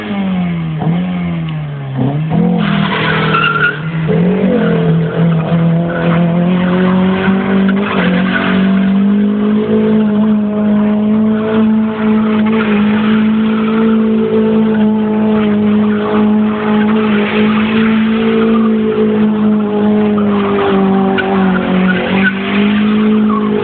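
An Alfa Romeo 156 doing a tire burnout gives a loud continuous screech of spinning tires over a revving engine, held steady and close for the whole stretch.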